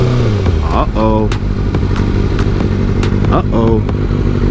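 A Kawasaki ZX6R sportbike roars close by while riding, its engine revving up and down through gear changes with sharp rising whines. Voices talk over the engine.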